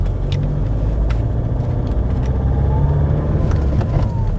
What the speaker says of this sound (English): They don't sound the best, do they, diesels?